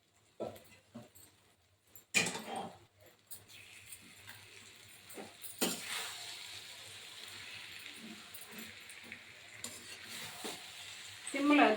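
Kothu chapathi, shredded chapathi mixed with kurma or gravy, stirred in a pan with irregular scraping and clattering bursts over a steady low sizzle, louder near the start and end.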